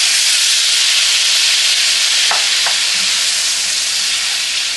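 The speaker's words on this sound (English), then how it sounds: "So we're just gonna go ahead and dump our shrimp in." Shrimp hit a hot pot and sizzle loudly, a dense, close, continuous frying hiss with a couple of brief clinks partway through and no speech.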